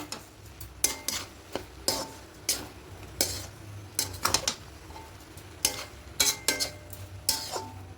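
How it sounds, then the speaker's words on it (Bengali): Flattened rice (chira) stirred into a pot of rose-scented pulao, rapid repeated spatula scrapes and knocks against the pot in an uneven rhythm over a faint sizzle, close and clear, no talking. "এবার এখানে চিড়ি দিয়ে দেব খুব ভালো করে মিশিয়ে নেব"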